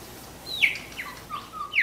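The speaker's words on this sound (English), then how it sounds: "why kookaburras laugh early each morning at sunrise" A few sharp, descending kookaburra laughing calls ring out in quick succession against quiet background, brief and fairly close.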